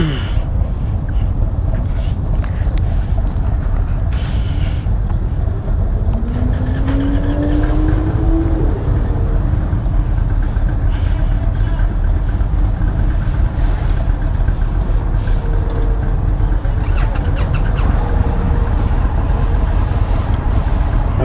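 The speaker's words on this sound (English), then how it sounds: "we are demoing the 2019 Indian FTR 1200S" A 2019 Indian FTR 1200 S motorcycle engine runs steadily and close, a continuous low rumble with loud broadband wind noise over it for the whole stretch, no talk heard.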